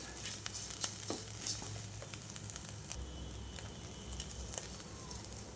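Chutney ingredients frying in a pan and being stirred, a steady soft sizzle with light scraping and pattering of the spoon, fairly quiet and close.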